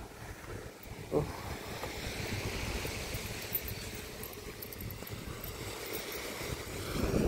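Ocean waves roll near a boat by a pier after a typhoon, a steady broadband wash mixed with wind rumble on the microphone that swells slightly toward the end.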